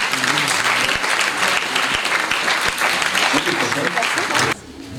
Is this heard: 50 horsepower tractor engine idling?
no